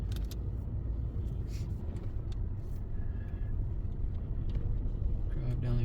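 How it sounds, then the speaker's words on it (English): A truck rolls along a road before snowfall, a steady low engine and tire rumble filling the cab throughout, close and continuous. "we're back in the truck and we're going to drive down"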